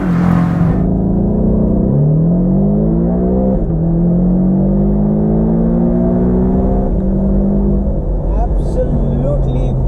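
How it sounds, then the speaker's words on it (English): A Porsche 718 Boxster engine screams loudly as it accelerates hard, pitch climbing through several gear changes in a continuous, aggressive roar. "And how does the car sound when you're pushing it hard?"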